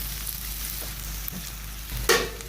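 Onions sizzle in oil in a pan, a soft, steady frying hiss with faint stirring scrapes and one sharper clatter near the end.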